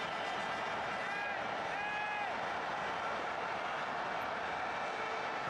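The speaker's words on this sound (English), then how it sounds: "as the crowd enthusiastically perform the Mexican wave" A big stadium crowd at a preseason football friendly sends a Mexican wave around the stands, a broad continuous roar with rising cheers, loud and steady throughout.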